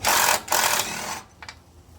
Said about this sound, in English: I'm going to start by taking the rear bolt out.